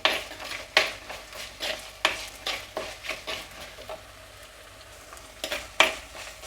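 Sliced onions frying in a pan for a sardine curry, a soft continuous sizzle punctuated by regular scraping strokes of a spoon stirring against the pan, close and fairly quiet with no voices.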